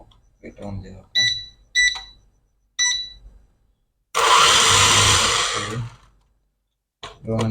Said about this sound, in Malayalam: നമുക്ക് ഡ്രോൺ ഓൺ ചെയ്യാം.